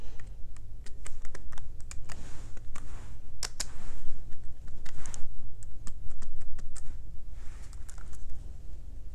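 Steady typing on a computer keyboard while entering drawing commands: rapid, continuous key clicks and taps, close and fairly loud, over a low background hum, with no speech.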